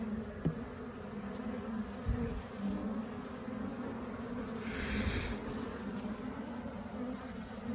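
Honey bees in a beekeeper's hive drone in a steady, continuous buzz, with a brief louder swell of activity midway and faint handling noises near the start.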